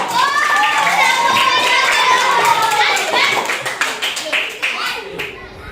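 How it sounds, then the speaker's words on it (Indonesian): A classroom of young pupils applauds a student named Aisyah, a dense, steady burst of clapping mixed with children's chatter that thins out toward the end. "Beri aplaus untuk Aisyah."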